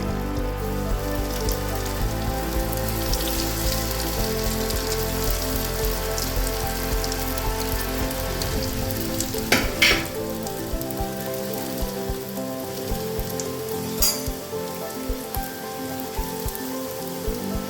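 Chicken kola urundai balls fry in a little oil in a small pan, a steady, close, crackling sizzle that runs continuously with occasional louder pops and no speech.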